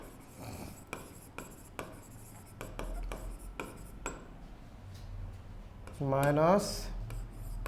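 Pen strokes scratch out an accounting formula by hand, a series of short, soft, scratchy ticks at an uneven rhythm, heard close under a person speaking.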